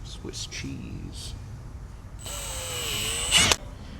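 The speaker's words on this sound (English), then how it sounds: "you're going to start off with drilling those 3 indentions" A power drill bores holes into Can-Am Defender HD11 fenders, one rising whine that builds over about a second and a half and cuts off sharply, preceded by brief clicks and handling noises.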